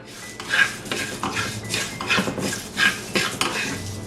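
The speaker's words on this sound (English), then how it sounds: "So now I'm going to be stirring it every 5 seconds and dry roasting this" Utensil scraping and clattering against a pan as raw white rice is stirred and dry roasted for a crab curry, with irregular close metallic scrapes and taps across the span and no voices.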